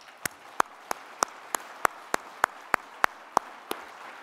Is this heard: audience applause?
yes